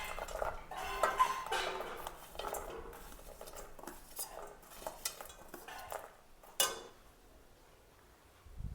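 Ghee-roasted dry fruits tipped from a plate into a kadhai, with scattered clinks and scrapes of metal utensils against the pan, fairly quiet and uneven.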